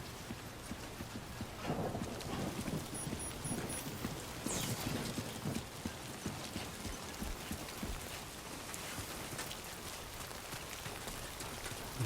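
Rain falls steadily on the ground in Death Stranding 2 as a character climbs a steep cliff, a continuous soft patter with scattered drop impacts and footstep-like clicks throughout.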